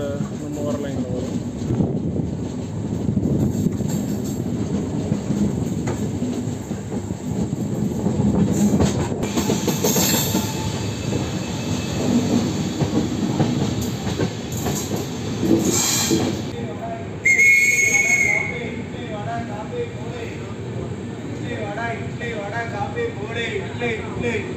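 A Tuticorin–Mysuru Express passenger train (16235), hauled by a WAP-4 electric locomotive with LHB coaches, rumbles steadily along with rhythmic wheel clatter and a brief high squeal, while voices chatter nearby throughout.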